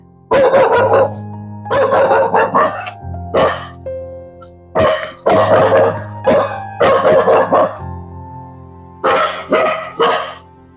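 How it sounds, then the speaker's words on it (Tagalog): Many angry dogs bark close by in a Philippine village, loud repeated volleys of overlapping barks coming in clusters with short pauses between them. "Dami aso."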